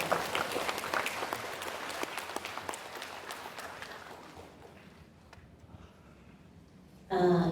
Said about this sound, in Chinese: 那我们热烈掌声来欢迎我们罗拉院长好吗